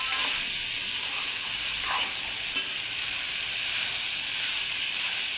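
Vegetables fry in a dry spice masala, giving off a steady, bright sizzling hiss that runs unbroken and fairly close, with no voices over it.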